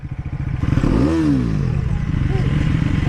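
Triumph Speed 400 motorcycles rev loudly in a roadside drag race, the engine note rising and falling in a sweeping pitch arc before settling into a steady, throbbing drone up close.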